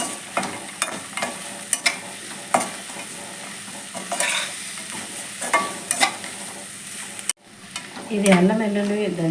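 Ginger-garlic paste frying in a pan for long bean ginger rice, with steady sizzling and repeated scraping stirs throughout, a brief break near the end, then a voice speaking over the continued frying.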